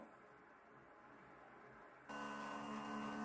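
An Outin espresso machine, quiet at first, then starting up with an abrupt, steady mechanical pump hum that stays on as the coffee begins to brew, close and fairly faint.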